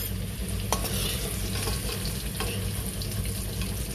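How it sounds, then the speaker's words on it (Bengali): Potatoes frying in oil in a pan, with a steady close sizzle and a few sharp stirring clicks of a utensil against the pan. "আলুটা আমি ভেজে নিলাম লাল লাল করে, ভাজা হয়ে গেছে।"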